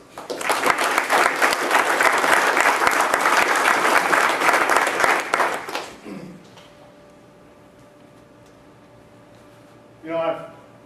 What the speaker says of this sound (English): So, round of applause for the families.